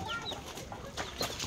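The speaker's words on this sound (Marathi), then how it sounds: "आणि खूप साऱ्या खाली कोंबड्या खूप साऱ्या आहेत." Chickens cluck softly at a farmhouse in Panvel, with a few brief, faint calls and no voices nearby.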